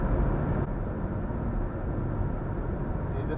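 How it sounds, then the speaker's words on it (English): A PT Cruiser with a worn front wheel bearing, driving at about 40 mph, giving a steady loud road and drivetrain drone with a faint choppy, pulsing undertone throughout. "You just hear that choppy sound. It's almost like a helicopter in the distance."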